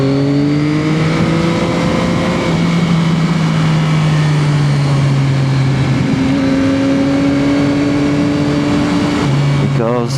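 A Yamaha XSR 900 motorcycle engine drones loudly and continuously while riding tight twisty roads, its pitch sagging and climbing with throttle changes and gear shifts, close and constant throughout.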